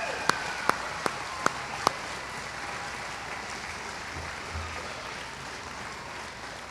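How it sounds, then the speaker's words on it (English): Crowd applause at a boys' high school soccer state championship celebration, a steady distant wash of clapping carrying through the whole stretch, with a few sharp louder claps near the start. "round of applause."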